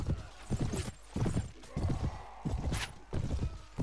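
Rhythmic horse hoof clip-clop in a Clash of Kings siege battle, steady and fairly close in repeated bursts, with a possible whinny.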